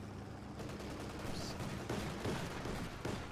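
Distant machine gun fire and scattered battle noise from the Company of Heroes 2 game, a continuous low rumble of gunshots at moderate volume with no voices.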